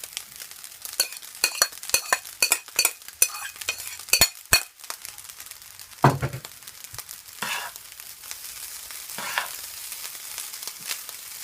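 Mixed vegetables stir-frying into shrimp fried rice, with a run of sharp spatula scrapes and clinks against the pan in the first few seconds, then a steady soft sizzle with occasional louder scraping strokes, close and alone.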